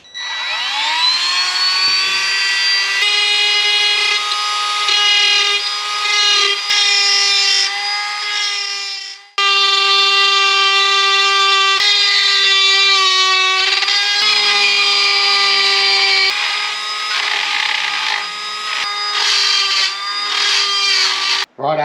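A power tool grinds V-grooves into cracks in a damaged steering wheel, a loud steady high-pitched whine with strong harmonic tones that runs continuously, briefly stops near the middle, then resumes with wavering pitch as the load shifts.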